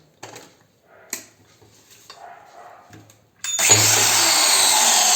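A Bosch GDC 120 marble cutter is handled with a few clunks and rattles, then starts up and runs free without cutting, a loud, steady, high-pitched whine that holds at full speed close by.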